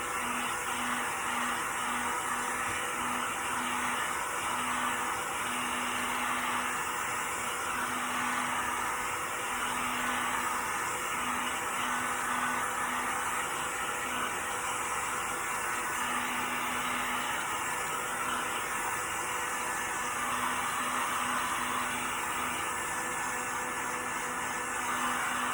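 A hair dryer blows continuously on a freshly painted DIY farmhouse tray, a steady close whooshing roar with a faint hum that holds at one level throughout, with no voices.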